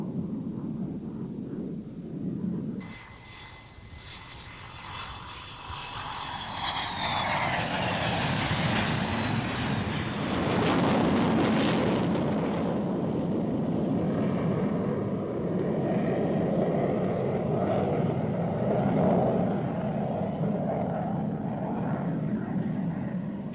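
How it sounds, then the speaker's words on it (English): A McDonnell Douglas F-15 jet comes in to land with an F-4 chase plane following, a loud sustained engine roar that swells and holds steady, with a high whine rising early on. "as it begins its landing with an F-4 chase plane following"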